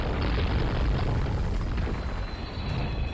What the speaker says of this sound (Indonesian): helikopter akan jatuh dan meledak tepat di rel kereta api